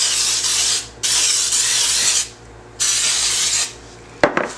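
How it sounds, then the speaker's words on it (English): Baker's Joy baking spray hisses from an aerosol can onto baking pans in three long, loud bursts with short pauses between them, followed by a brief clatter of a pan, close up and with no talking. "I'm going to spray my pans with some Baker's Joy."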